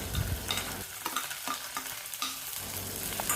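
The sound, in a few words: onion, curry leaves and garlic sautéing in oil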